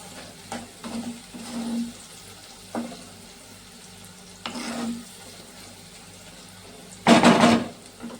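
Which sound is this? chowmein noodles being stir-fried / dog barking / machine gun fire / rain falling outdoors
chowmein noodles being stir-fried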